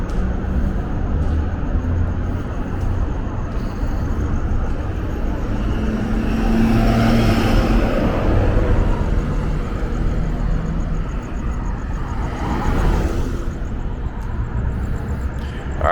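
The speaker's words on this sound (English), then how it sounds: "Always idiots driving around in this parking lot," Cars drive around inside a parking garage at the Miracle Mile Shops in Las Vegas, a continuous low engine rumble and tyre roar echoing in the enclosed space, swelling briefly in the middle.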